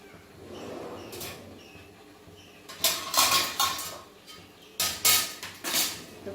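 Metal lid set onto a cooking pot of butter chicken, with a few sharp clanks and clattering knocks of metal on metal in two short bursts, close and fairly loud against a quiet kitchen background.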